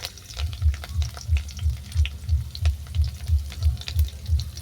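Chopped garlic and curry leaves sizzle in hot mustard oil in a kadai, with a crackling fry under rhythmic, repeated stirring strokes that pulse about twice a second, close and alone.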